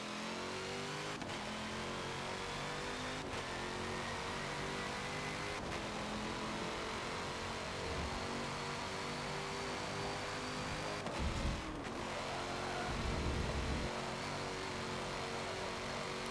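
A racing car's engine in Forza Motorsport 7 holds a steady, sustained drone through a hot lap, with shifting pitch as it revs and a few sharp gear-change breaks, continuous and fairly loud throughout.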